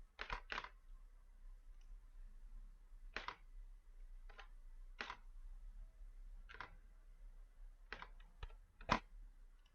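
Keys click on a computer keyboard in short, separated bursts while a date of birth is entered on an online UK visa form, quiet and close, with pauses between groups of keystrokes.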